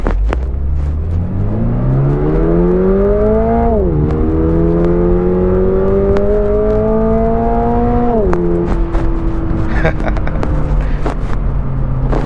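A 2022 Toyota GR86 with an automatic gearbox at full throttle: the engine note climbs steadily, drops briefly at two upshifts, and keeps rising under wind and road roar.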